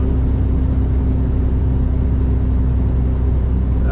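A truck's engine drones steadily at around 1300 RPM while it slows down on the road, a continuous low rumble with a faint whir over it and no voices.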